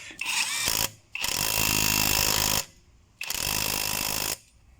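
An Einhell TE-CW 18 cordless half-inch impact gun hammers at rusty bolts in two long, loud rattling bursts, each a second or more, with a brief initial burst and quiet gaps between.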